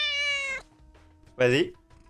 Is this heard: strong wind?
no